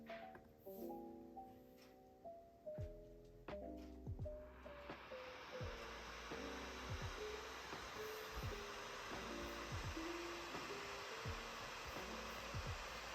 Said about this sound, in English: now let's hear the M1 Pro, MacBook Pro,